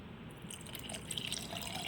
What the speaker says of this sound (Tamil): ஒரு 1 லிட்டர் தண்ணி இதில் ஊற்றி வச்சிடலாம்.